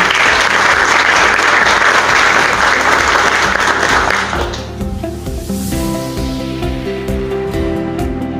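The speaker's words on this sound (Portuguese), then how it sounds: "Gostaria de ter mais uma salva de palmas." Audience applause at an evening honors ceremony for organizations and personalities, loud and sustained broadband clapping for about four and a half seconds, then fading as music with steady tones takes over.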